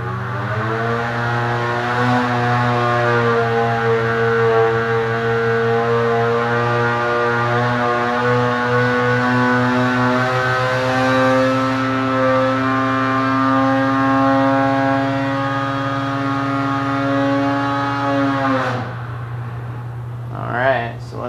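Polaris Matryx 850 snowmobile engine on a stock flash, or stock with a Bikeman muffler, pulling hard through a full run with a steady climbing harmonic whine that rises and holds for about eighteen seconds, then cuts off abruptly.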